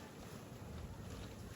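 Wind blowing across open farmland on a hot day, a steady, dense rush and rumble buffeting the microphone with no pauses and no voices.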